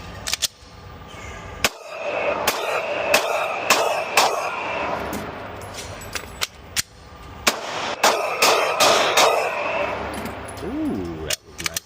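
A Glock 45 pistol fires a series of sharp, loud shots in uneven bursts with short pauses between, over an outdoor background hum.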